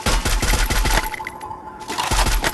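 Rapid automatic gunfire in a solo ranked battle royale match, loud bursts of shots in quick succession, a short pause midway, then another burst.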